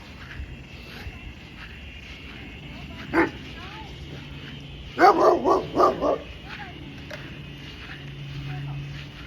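A large dog barks outdoors in a quick burst of four or five loud, close barks, preceded by a single earlier bark, over steady background noise and a faint voice.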